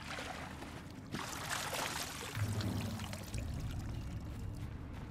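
Water trickles and pours in Horizon Zero Dawn, a soft continuous splashing flow with faint low rumbling underneath, steady and unbroken.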